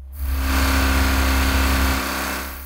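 A BMW or Porsche car engine running with no oil, nearly ten minutes in, holds a loud sustained revving drone that seems to rise on its own, with a strong low rumble and bright mechanical whine, then eases slightly near the end.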